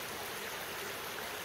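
A small, cool, clear stream flows steadily past wetlands, a dense continuous rushing and babbling of water heard close and alone throughout.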